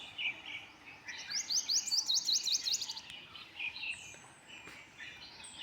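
Birds chirp in a quiet village at dawn: a quick run of bright, high tweets rises to a burst in the middle, with a few scattered calls before and after over a soft outdoor background.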